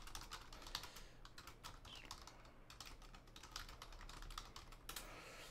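Rapid, close keyboard typing clatters steadily, keys tapping in quick irregular bursts with no voices.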